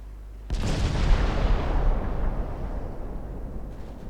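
A torpedo hit on an enemy ship in a 1947 naval warfare video game: a single sudden, deep explosion booms out, then rumbles away over several seconds.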